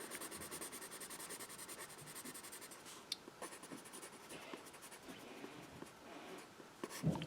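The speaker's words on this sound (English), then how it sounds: "my classic dark pencil, the Mitsubishi 2B." A Mitsubishi 2B pencil writes on notebook paper with soft, close scratching strokes that come in irregular bursts with brief pauses, quiet and alone.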